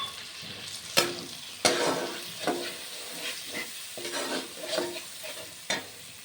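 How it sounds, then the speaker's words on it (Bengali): Spices with ground coriander and a sliced tomato fried in oil and stirred in a pan, a close sizzle broken by sharp scraping strokes of a spoon at uneven intervals, with no voices. "মশলা খুব ভালো করে আগে কষিয়ে নেব"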